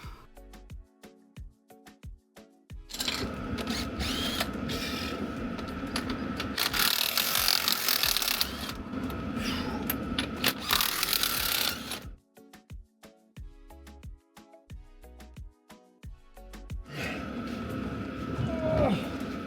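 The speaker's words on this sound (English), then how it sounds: "I manoeuvred the wheel off of the wheel studs." A back wheel of a 4x4 being worked off its wheel studs during a mountain expedition repair: sustained scraping, grinding and clunking metal contact, close by, with a quieter lull partway through and no talk.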